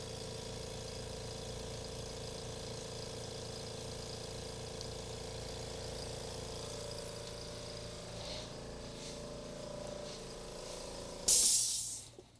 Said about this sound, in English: Air compressor off so I don't get the bejesus scared out of me next time I'm in the office, so that it just kicks on.